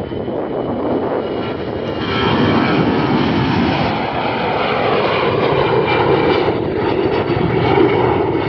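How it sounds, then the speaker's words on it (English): Airbus A320 jet engines roar steadily and loudly close by as an easyJet airliner passes at Glasgow Airport, a broad continuous rush that swells slightly midway and holds without talk. "I can hear those beautiful A320 engines."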